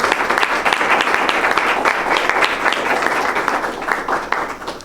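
A school board meeting audience gives a round of applause, loud dense clapping from many hands that holds steady throughout with no speech over it.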